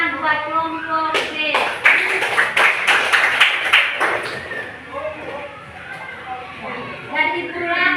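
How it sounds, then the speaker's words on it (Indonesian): Classroom applause for a student group, brisk overlapping claps rising to a burst and then tapering off, with voices talking underneath. "Tepuk tangan buat kelompok D"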